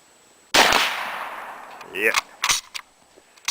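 A Winchester Model 1894 lever-action rifle fires a loud, sharp shot outdoors, its report ringing and decaying over about a second. A few lighter knocks and clanks follow, fitting the lever cycling or a steel swinger target being struck.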